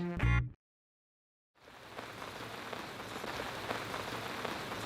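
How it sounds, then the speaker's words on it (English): Steady rain patters on a surface after a brief burst of sound and a moment of silence, continuing evenly to the end. "but it's raining"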